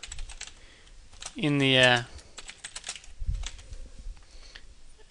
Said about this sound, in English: So we type that in